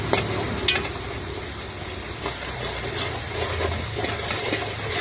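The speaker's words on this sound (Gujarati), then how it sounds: "આપણો વઘાર થઈ રહ્યો છે" A spiced tempering sizzles in a hot pan, a continuous crackling fry with stirring scrapes throughout, close and steady, with no talk.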